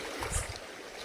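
Rushing flood water of the Keleghai river pouring in during heavy rain, a brief, dense wash of gurgling, splashing flow heard close and fairly loud.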